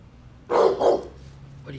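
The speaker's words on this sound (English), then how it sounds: "You barking at that crazy snow?" A Rottweiler barks twice in quick succession at falling snow, close and fairly loud, against a quiet background.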